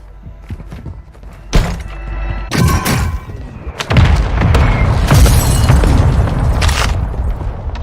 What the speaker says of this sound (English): Mortar strike incoming.